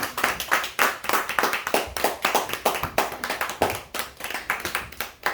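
A church congregation claps together to acclaim Jesus, a close, steady run of sharp, rhythmic handclaps repeating at a brisk, even pace for several seconds without pause or talk.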